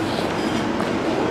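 A tram passing in Blackpool, a brief, fairly loud rolling rumble with rail clatter, close by and steady, with no talk.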